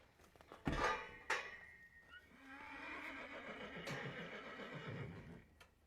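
A horse at an equine shelter intake barn gives a loud, drawn-out whinny near the start, followed by further neighing and a rising, wavering call, with faint metallic clatter and hoof sounds in the background.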